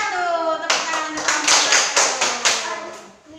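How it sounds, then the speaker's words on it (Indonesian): A classroom group claps for the winning team, a burst of quick, close hand claps starting after a short spoken lead-in and rolling on in uneven waves before fading out. "Tepuk tangan untuk"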